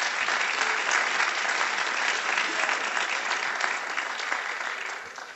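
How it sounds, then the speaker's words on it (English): Audience at an evening lecture series applauding, a full, steady burst of clapping from many hands that tapers slightly at the end. "Let's give them all a round of applause."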